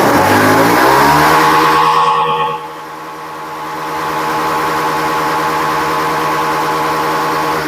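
A 2019 Honda Beat scooter with a sticking, sluggish throttle and a freshly adjusted TPS sensor revs loudly and close, then the engine note drops sharply and settles into a steady idle hum.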